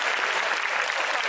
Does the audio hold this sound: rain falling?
no